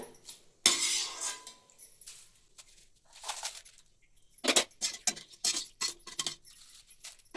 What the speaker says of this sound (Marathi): आता आपण एका भांड्यात काढून घेऊया।